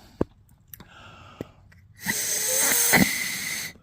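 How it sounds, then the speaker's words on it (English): A few soft clicks and taps, then a rough, hissing burst of air blown by mouth through a Jeep Grand Wagoneer fuel filter with a rattling, sputtering edge as debris blows out. "let me put my mouth on it and blow on this really quick"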